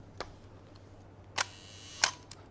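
Film camera shutter firing at a one-second exposure: a sharp click as it opens, then a second click about two-thirds of a second later as it closes, crisp and close in a quiet room, with a fainter click shortly after.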